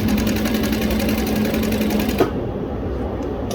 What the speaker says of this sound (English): I'll do one last one, and then I'll sew on another piece of material